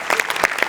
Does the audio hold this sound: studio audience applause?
yes